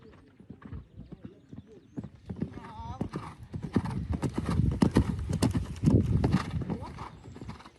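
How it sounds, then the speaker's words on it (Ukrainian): Horse hooves clip-clopping at an annual riding competition, with rhythmic steps and whinnying close by under a background voice. "На цьому відео Вікторія Маяцька на коні бархані виступає на щорічних змаганнях"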